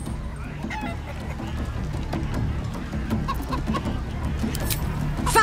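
Chickens clucking in the Baldur's Gate III video game, a busy run of close, repeated clucks and squawks over a low background murmur.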